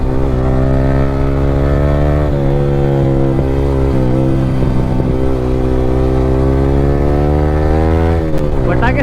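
Yamaha R15 V3 motorcycle fitted with an Akrapovic R9 exhaust, its engine droning loud and close throughout, with a steady tone that shifts slightly and a sharper rev or crackle burst near the end.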